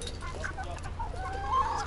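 Chickens cluck and call on an uninhabited island among ducks, pigeons and other birds, set against steady outdoor background noise with a faint rooster-like call, and no clear speech.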